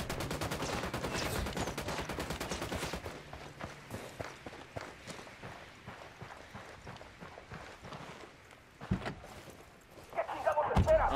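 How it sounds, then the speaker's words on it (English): Rapid gunfire rattles in a firefight in the video game Ghost Recon Wildlands, with dense bursts of shots at first, then sporadic cracks and thumps under voices. "Opening fire."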